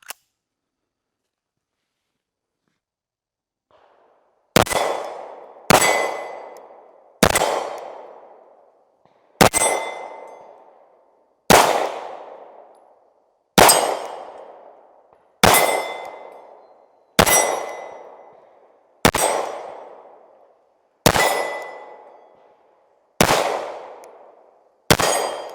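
Competition handgun shots on steel targets: about eleven sharp cracks, each followed by a ringing metallic clang, fired at a steady pace of roughly one every one to two seconds after a quiet opening.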